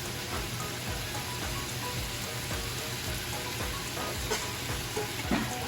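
Ground meat frying over medium-high heat in a pan with pepper and garlic, a steady dense sizzle and crackle with a few louder pops near the end, no talking.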